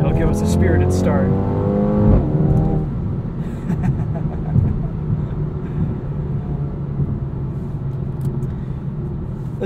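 A 2020 Mercedes-AMG A35 Sedan engine revs loudly and surges, accelerating hard from standstill with rising harmonic whine early on, then settles into a steady heavy rumble with some voices underneath.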